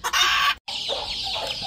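Buff Leghorn hens cluck loudly and close by in a dense run of calls, with a brief silent break before the clucking resumes.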